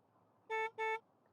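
A car horn gives two short, loud honks in quick succession, clear against a quiet background.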